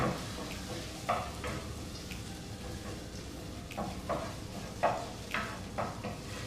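Chorizo sizzling in a pan on the stove while being stirred, with soft repeated scraping strokes and clicks over a steady frying hiss, close and moderately loud, no talking.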